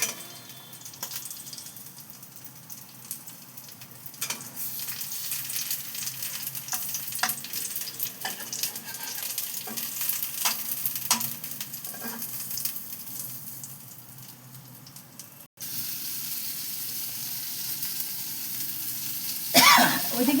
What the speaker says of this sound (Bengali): এবার আস্তে আস্তে করে আমি উল্টিয়ে পাল্টিয়ে ভেজে নেব